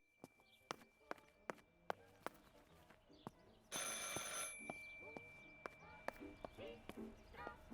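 A telephone ringing inside the Martha Is Dead video game, a sustained bright electric ring bursting in mid-way for about a second, set against steady rhythmic footsteps and faint ambience.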